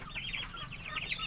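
Farmyard chickens cluck in short, repeated bursts, fairly close and moderately quiet over a low background hum.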